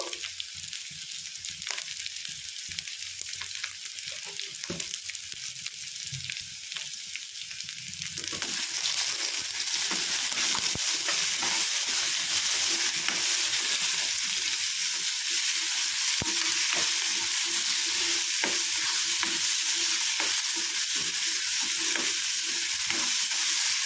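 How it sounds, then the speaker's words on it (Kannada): Potatoes and onions fry in a pan. The sizzle starts moderate with scattered stirring clatter, then swells into a louder, denser, steady crackling hiss partway through. "ಸ್ವಲ್ಪ ಬೇಗ ಫ್ರೈ ಆಗುತ್ತೆ ಆಲೂಗಡ್ಡೆ ಮತ್ತು ಈರುಳ್ಳಿ ಕೂಡ"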